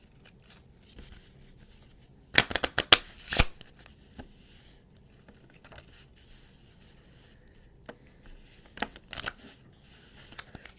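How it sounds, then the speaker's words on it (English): Two short bursts of playing cards being riffle-shuffled, crisp and close, separated by quiet handling noises. "Shuffle the cards."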